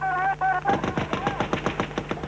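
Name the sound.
gunfire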